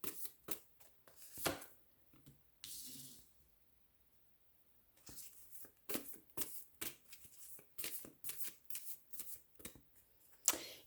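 Tarot cards being shuffled for a love reading, a run of crisp riffling bursts with a pause in the middle, then quick repeated shuffles, close and fairly quiet with no talking.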